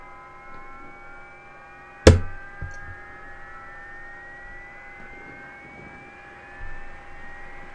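A light aircraft engine in Microsoft Flight Simulator cranks on the starter, a sharp click followed by a low steady hum with slowly rising whine tones, quiet and even throughout.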